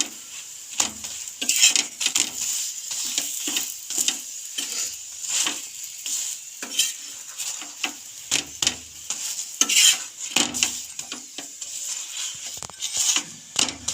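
Coconut fritters fry in a pan, two or three at a time, with a continuous hissing sizzle and frequent scraping and tapping of a utensil against the pan, close up.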